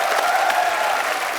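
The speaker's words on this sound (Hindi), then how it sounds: "जोरदार तालियां हो जाए।" Steady, dense applause from an audience, many hands clapping at once with no break, fairly loud throughout.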